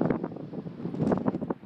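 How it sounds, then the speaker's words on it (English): Gusty wind buffeting the microphone on a bicycle ride near Port Elliot, heading into a headwind: uneven low rumbling thumps that rise and fall in quick irregular bursts, fairly quiet overall. "Windy as, I'm not sure if you're going to hear this."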